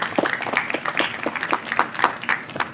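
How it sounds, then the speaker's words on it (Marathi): Applause at a felicitation ceremony, a crowd clapping in an uneven patter of many hands for a few seconds, moderately close. "जोरदार टाळ्यांचा गजर या ठिकाणी झाला पाहिजे."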